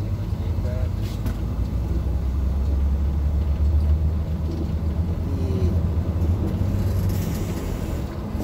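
Steady low rumble inside a moving Satélite Norte coach travelling from Goiânia to Imperatriz near the Goiás–Tocantins border, a constant droning engine and road noise that stays even for the whole stretch, with only faint incidental sounds.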